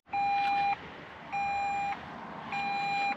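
A Toyota Land Cruiser 300 Series sounds its door-open warning: three evenly spaced, steady electronic beeps, each about half a second long, over a low background hum.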